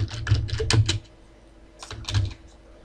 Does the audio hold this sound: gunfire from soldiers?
no